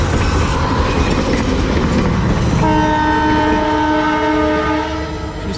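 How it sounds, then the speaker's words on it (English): A two-car train rolls through a small Pennsylvania town, its wheels rumbling loud and close, then a sustained multi-tone horn blares from midway and holds for several seconds before easing off. "Just a two-car train, but it's really moving."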